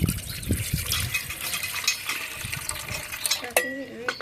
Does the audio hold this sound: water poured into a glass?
yes